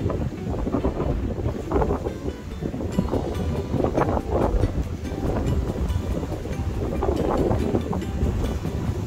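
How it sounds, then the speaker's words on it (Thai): Strong wind buffets the microphone in gusty, rumbling bursts along an outdoor route toward Phraya Nakhon Cave, continuous and loud throughout. "ลมแรง"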